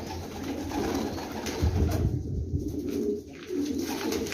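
A pigeon coos in low, soft repeated calls close by, over a steady background hum with no talking.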